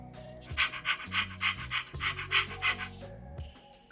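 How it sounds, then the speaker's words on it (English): A Raspberry Pi robot dog plays a synthetic dog panting sound, eight or nine rhythmic breathy huffs in quick succession, close and fairly loud, with faint mechanical tones underneath. "Pant 5 times."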